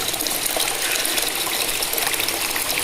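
Water gushing steadily from a tap or hose into a container outdoors, a continuous loud splashing rush with no voices.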